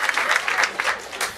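A comedy club audience claps together in a burst of applause, steady and fairly loud for a moment before thinning out, with a few scattered voices mixed in.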